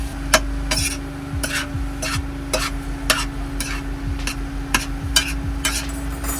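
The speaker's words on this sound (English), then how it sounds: "Now we're gonna cook some mushrooms." Mushrooms cooking in a pan on a van stove, with a steady sizzle and a utensil repeatedly scraping and stirring in a regular rhythm, close and fairly loud.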